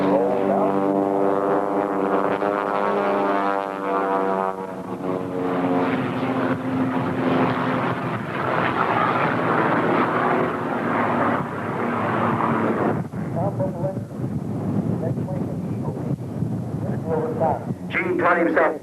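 Aerobatic airplane engine during a snap roll, a loud droning propeller note whose pitch rises and shifts as the maneuver progresses, then fades to rougher noise, with a voice talking over it throughout.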